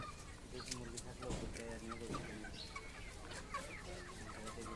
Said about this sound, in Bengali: দেশি মুরগি আছে, আছে মুরগি আছে